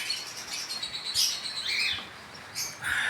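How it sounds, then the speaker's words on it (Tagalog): Pet birds chirping and tweeting in short, bright calls, fairly close, with no talking. "pag naririnig mo yung mga huni ng mga ibon natin"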